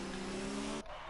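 An F1 car locking up its tyres in a racing video game at the Italian Grand Prix, a brief loud engine whine with a squealing skid that cuts off abruptly near the end.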